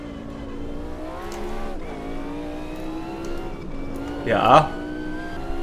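A V8 race car engine in a sim racing game drones steadily at constant revs, with gear-like pitch shifts and a short squeal near the end, while a voice speaks briefly over it.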